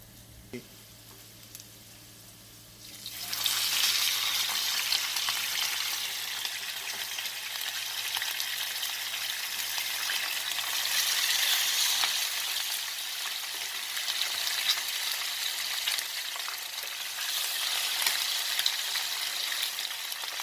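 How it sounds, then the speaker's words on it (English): Fish fries in hot oil for Jamaican-style escovitch fish, a loud, steady crackling sizzle that bursts up when the fish goes in after a quiet start and keeps hissing evenly throughout. "Okay, my oil is hot enough. So I'm going to start now by putting in my fish."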